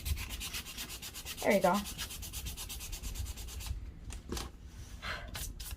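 Hand sanding scrubs stain off a wooden cutting board in quick, even back-and-forth strokes, close and fairly soft, then slows into a few separate rubs as a voice briefly speaks.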